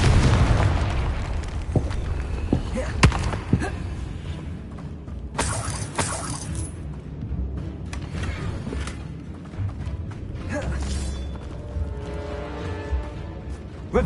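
A Confringo blasting spell in Hogwarts Legacy bursts with a sharp explosive crack and shattering debris, followed by rumbling aftermath and a few more scattered pops and crashes, fairly loud against a low ambient background.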